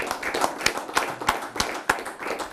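Audience clapping at an Italian televised football evening, a sparse, uneven run of individual claps, fairly close, with no voices over it.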